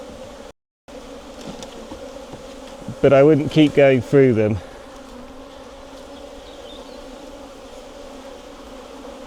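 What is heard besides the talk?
honeybees in an open hive during frame inspection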